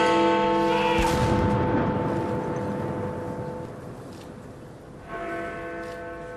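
Gun salute fired for an Armistice Day commemoration, a loud close boom that rolls away into a long echoing decay, then a second blast near the end, outdoors with no talk.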